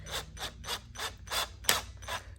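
A power drill driving screws into a wooden desk during assembly, heard as seven evenly spaced bursts of grinding, whirring mechanical noise, close and moderately loud with no talking.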